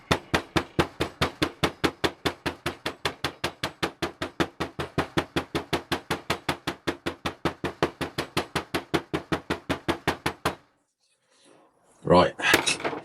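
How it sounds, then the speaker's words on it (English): Hammer blows drive something in for a precious metal stack, about fifty sharp, evenly spaced strikes in a quick steady rhythm, close and loud, then a brief silence and a short rustling clatter. "let's get this hammered in"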